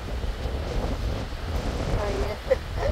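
Strong wind buffets the microphone beside a rough sea in Northwest Tasmania, with surf rolling and breaking under a steady gusty roar and a louder wave crash near the end.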